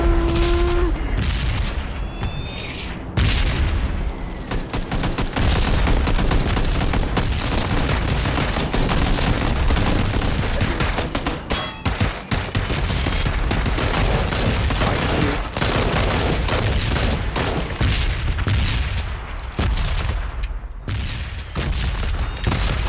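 Explosions and rapid gunfire from a bombing zone in the PUBG video game, with dense, loud, continuous blasts and bursts for the full stretch and a voice briefly talking under the din.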